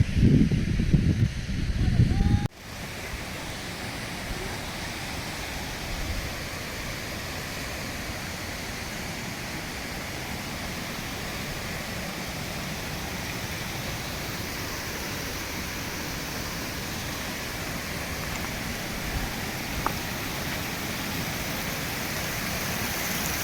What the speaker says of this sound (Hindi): यहाँ बहुत सारे झरने जो है बह रहे हैं, इसलिए जो है सहस्त्रधारा कहा जाता है।